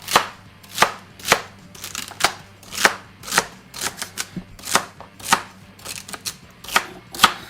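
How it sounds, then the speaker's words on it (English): Celery cut with a knife on a cutting board, crisp close chops landing in a steady, slightly uneven rhythm, about two per second, with quieter taps between. "I'm gonna cut the celeries"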